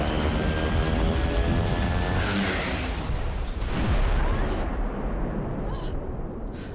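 An aircraft falling and crash landing in the video game Syberia 2, a dense, loud roar with rumbling impact noise and a brief whine that stay steady throughout, then thin out toward the end.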